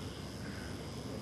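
Drones buzz overhead during a speech at a military exercise, heard as a faint, continuous whirring drone with a thin high whine, steady and unbroken through the short moment.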